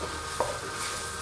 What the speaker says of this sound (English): Now we're going to start stir frying all the veggies. I'm actually steam frying, just using a little water